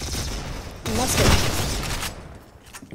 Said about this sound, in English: You keep on missing with the musket!